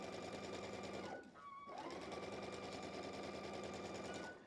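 A sewing machine stitches fabric in a fast, even mechanical chatter, close and steady, pausing briefly near the start of the second second before running on at the same pace.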